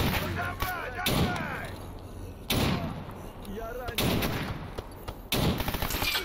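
Shotgun firing slugs in the video game STALKER Anomaly: four loud, sharp blasts spaced roughly a second or more apart, each with a rumbling decay, with voices and game ambience in the background.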